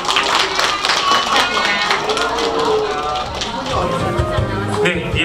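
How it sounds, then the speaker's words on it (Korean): An audience at an award ceremony for a hanbok model contest claps, a lively patter of applause mixed with voices and crowd murmur. "박수 한번 부탁드리겠습니다."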